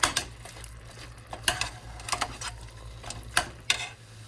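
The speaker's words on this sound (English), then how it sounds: "I'm going to stir this up and then let this continue to brown" A spoon knocks and scrapes against a pan as browning meat with onion powder is stirred, producing scattered sharp clinks and taps over a low background hum, moderately quiet.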